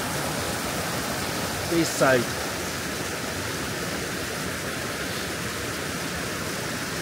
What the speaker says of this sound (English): This is the little river above Mohari, who feeds the water into the modular Pico-Hyro